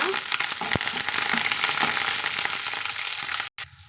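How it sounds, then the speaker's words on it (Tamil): Small shallots and curry leaves sizzle and crackle in hot oil, a steady bright frying hiss with occasional stirring knocks, close and loud, cutting out briefly near the end. "கொஞ்சமாக கருவேப்பிலையும் சேர்த்துக்கலாங்க சேர்த்துட்டு நம்ம கலந்து விட்டுக்கலாங்க"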